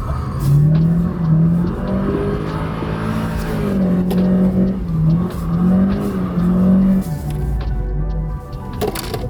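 A Mazda MX-5 drifting on a track, its engine revving loud and close with wavering pitch as it slides through corners, with intermittent tire squeal.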